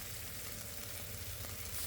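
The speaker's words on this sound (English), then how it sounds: "while this sauce is boiling" Mushroom sauce boiling on a hot grill, a steady dense sizzle and bubbling that stays constant throughout, with no voices.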